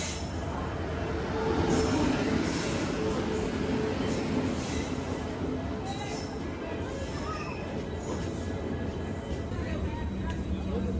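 Swaraj Express train arriving at Pathankot railway station, a steady loud rumble of rolling wagons and wheels with faint squeal and a background of platform crowd babble throughout.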